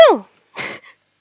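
A person sneezes sharply, followed after a short pause by a second, softer burst of sound, close and loud, in an otherwise quiet room.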